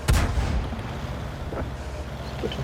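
A World of Tanks cannon shot booms at the start and rolls off into a long rumbling decay, with faint distant thuds afterward and no voices.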